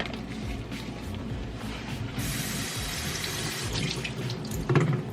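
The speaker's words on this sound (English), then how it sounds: "I'm gonna rinse it right here at the sink." Kale is rinsed under a kitchen sink faucet, with water streaming steadily and close, and the flow growing brighter and louder partway through as the leaves are moved under it.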